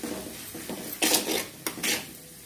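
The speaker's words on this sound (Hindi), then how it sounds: "नमक को मैंने डाल दिया, अब इसको अच्छे से मिक्स कर लेंगे।" A utensil stirs frying onions and salt in a pan for pav bhaji, giving a few sharp metallic clanks and scrapes against a soft sizzle-like hiss.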